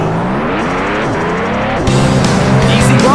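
Several race car engines in the rally video game Rock N Racing Rally roar loudly and steadily, with rising and shifting pitches, then swell further as the cars pull away in a thick, continuous engine blare.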